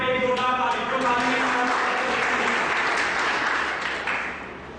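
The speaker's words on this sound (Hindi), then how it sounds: "इनके नाम पे, ठाकुर जी के नाम पे एक जोरदार ताली।" A large crowd claps and cheers loudly and steadily at a teaching-skills seminar hall, the sustained applause filling the room before fading slightly at the end.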